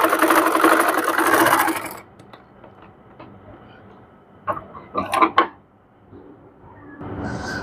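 A sewing machine stitches fabric for cord piping in a loud, fast two-second run, then gives scattered clicks and handling knocks before a short whirring restart.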